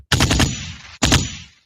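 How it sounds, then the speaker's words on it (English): Gunshot sound effect: a rapid burst of three or four sharp shots followed by a decaying echo, then a second shorter burst that fades out, loud and close with no talking. "So we're gonna have a gunshot."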